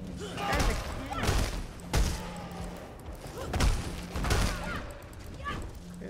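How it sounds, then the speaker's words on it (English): Cannon fire in the video game Path of Exile, several heavy booming thuds landing at irregular intervals amid layered game effects and crackling impacts. "That's a cannon."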